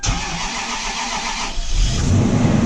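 A 2006 Toyota Sequoia V8 cold-starting at minus 15 °F: a steady mid-pitched hum, then the engine catches at about the midpoint and settles into a loud, rough, low idle.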